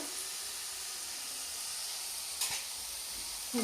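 Chana dal, or split chickpeas, fries in a pan for a chana dal curry with a soft, steady sizzling hiss, broken by a single brief clink of stirring near the end.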